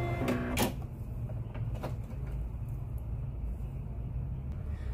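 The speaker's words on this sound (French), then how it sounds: "Elle fait donc son point d'arrêt final et coupe son fil" A Brother Innovis F400 sewing machine ties off its final stitch and trims the thread, a short burst of mechanical whirring and clicks at the start followed by a quieter low hum.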